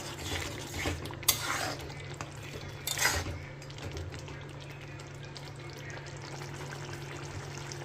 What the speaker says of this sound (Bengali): পনিরগুলোকে এবার অ্যাড করে দেব দিয়ে একটু নাড়াচাড়া করব